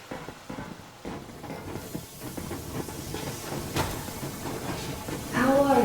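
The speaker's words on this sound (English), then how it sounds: "Yermak, full steam ahead" A steam train in the video game Metro Exodus pulls away with a steady hissing rush and low rumbling chuffs that build gradually and grow louder toward the end.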